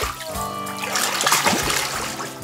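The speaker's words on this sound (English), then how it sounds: "this is Terrence the Seal's first time in the water." Grey seal splashing into water on its first swim, with several broad splashes and sloshing close by, steady and fairly loud throughout, with no talk.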